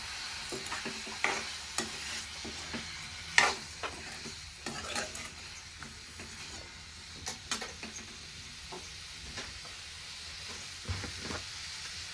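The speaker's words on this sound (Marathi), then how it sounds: "ह्या तेलामध्ये आता टाकून घेणार आहे। आता हे मिक्स करून घ्यायचं आपल्याला चांगलं।" Chopped ridge gourd frying in oil, stirred with a spoon, giving a soft, steady sizzle broken by repeated scraping and clattering strokes against the pan.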